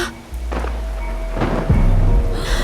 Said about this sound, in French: un ciel sans nuages s'est transformé en pluie d'orage